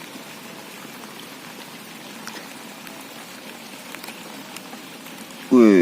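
Steady rain pattering down outdoors during eel fishing, a dense continuous hiss of drops that ends in a brief louder burst.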